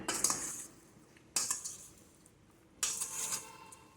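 Raw fish with salt is stirred in a bowl, giving three close, bright bursts of scraping and clinking with quiet pauses between and no talking.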